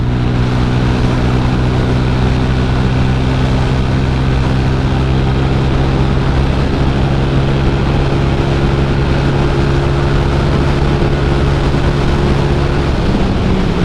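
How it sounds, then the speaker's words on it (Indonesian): Strong wind roars steadily over a Honda Vario 150 motorcycle on a morning ride, a dense continuous rush with a low steady engine hum beneath it and no voices. "Pagi ini kok anginnya kenceng banget ya."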